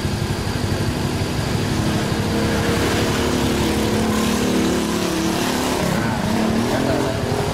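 A Honda Cub 86/90 motorcycle fitted with a 100cc four-speed engine runs steadily after an easy kick start, a close, continuous mechanical chug at even loudness throughout.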